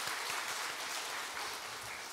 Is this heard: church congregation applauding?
yes